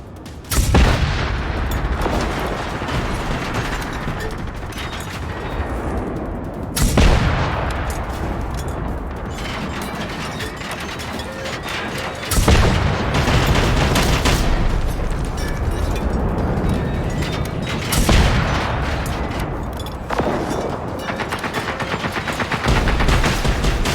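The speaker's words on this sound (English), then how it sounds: "Well, he's shooting it too" Players in the co-op shooter Generation Zero pour sustained gunfire into a tank-like robot, a dense, loud barrage punctuated by heavy booming impacts every few seconds.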